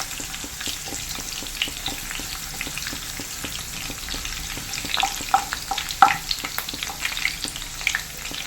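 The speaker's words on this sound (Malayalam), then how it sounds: "ഓയിൽ നല്ലപോലെ ചൂടായി. ഇതിനകത്തോട്ട് നമുക്ക് കുറച്ച് വെളുത്തുള്ളി ചതച്ചിട്ട് കൊടുക്കാം. കൂടെ തന്നെ കുറച്ച് കറിവേപ്പില." Crushed garlic and curry leaves frying in hot oil, a steady close crackle and sizzle with dense small pops that grow busier and louder toward the end, with no voices.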